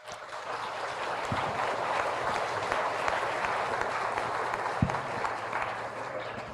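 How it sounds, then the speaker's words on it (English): Applause from an audience at a science and development event rises as a broad, steady wash of clapping, fairly loud and sustained across the whole stretch. "Very warm round of applause"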